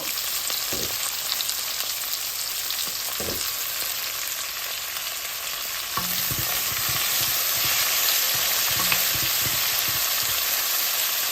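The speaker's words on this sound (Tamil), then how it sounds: "இப்போ வெங்காயம் வதங்கட்டும்" Onions frying in hot oil in a home kitchen pan, a loud continuous sizzle throughout with occasional soft stirring knocks, no voices.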